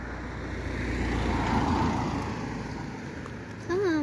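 A car passes on a quiet country road in the Alpes Mancelles, a broad rushing swell that builds, peaks near the middle and fades, followed by a brief nearby voice at the end.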